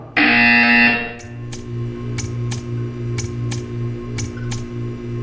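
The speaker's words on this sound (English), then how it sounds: "You will hear a buzzer." A loud electronic buzzer blares for about a second in the video game Portal 2, followed by a low steady hum with a series of regular faint ticking clicks.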